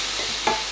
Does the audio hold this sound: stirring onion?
yes